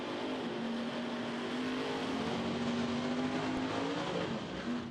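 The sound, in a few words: drag racing car launching at Santa Pod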